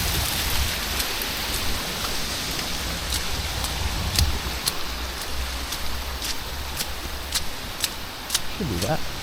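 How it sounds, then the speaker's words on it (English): Steady rain falls on a night walk outdoors, a dense, even hiss with occasional sharper drip ticks throughout, broken by faint voices in the background. "It's freaking rainy."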